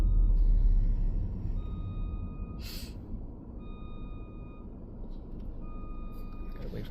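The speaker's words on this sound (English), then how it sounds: "I'm like, what's beeping? Stupid little man lift." A man lift's reversing alarm beeps at a steady, evenly spaced pace over a low engine rumble in a snowy parking lot, with a brief hiss partway through.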